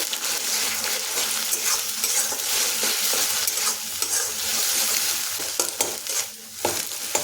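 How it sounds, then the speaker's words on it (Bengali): An egg is stirred and broken into pieces in hot oil in a frying pan for a moong sprout tadka, with a steady close sizzle and repeated scraping stirs throughout. "এখন ডিমটা ঘেটে নিয়ে টুকরো টুকরো করে নেব"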